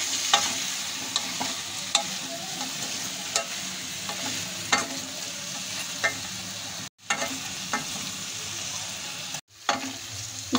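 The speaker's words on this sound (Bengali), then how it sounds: "ডিম আলু মশলা কষানো হয়ে গেছে" Eggs, potatoes and spices sauté in a pan for egg korma, giving a steady sizzle broken by repeated scraping stirs of a spoon at close range, with two short breaks in the sound.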